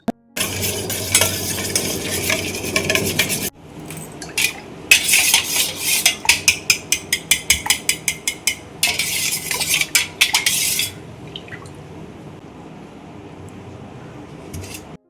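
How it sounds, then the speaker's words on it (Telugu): Buttermilk is being prepared in a home kitchen with stirring and rhythmic, rapid clinks and churning of utensils against a vessel, coming in loud bursts separated by pauses and fading to quiet at the end. "ఇంకా క్విక్ గా మజ్జిగ ప్రిపేర్ చేస్తున్నాను"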